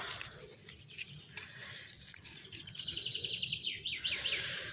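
Birds chirp and twitter outdoors in the countryside, a string of quick high tweets fading in and out, faint and somewhat distant over a soft rustling background.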